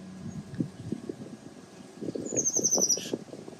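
A bird sings from among blooming trees on a spring walk, a brief bright run of chirps near the end, faint and distant over closer low rustling and footstep-like thumps.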